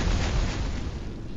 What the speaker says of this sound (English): Because that's four explosions right on him.